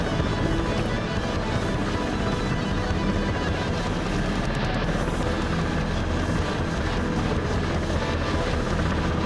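A helicopter engine and rotor in a flight simulator game drone steadily and loudly throughout, with no talk over it.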